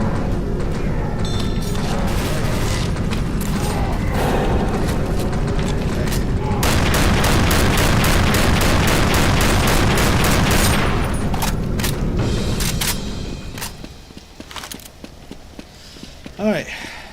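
Sustained rapid gunfire in Left 4 Dead 2, loud and dense for about thirteen seconds, then thinning into scattered shots and mechanical clicks, with a voice heard faintly underneath.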